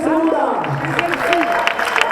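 At the finish line of the Volta a Peu Cullera road race, spectators applaud and cheer an arriving runner, a crowd clatter under an announcer's amplified voice.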